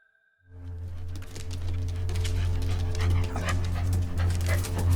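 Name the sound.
big Rottweiler dogs panting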